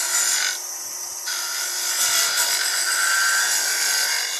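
Bowl gouge cutting into wood spinning on a lathe at about 3,000 RPM, giving a continuous close hissing, scraping rasp that shifts in tone as the cut changes, with no talking.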